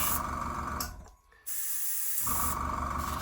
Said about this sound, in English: I will just adjust the spray, the airbrush.